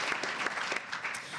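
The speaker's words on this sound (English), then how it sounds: "I'll take applause too." Brief, fairly faint applause from a conference audience at a legislative gathering, a soft patter of many hands lasting just over a second.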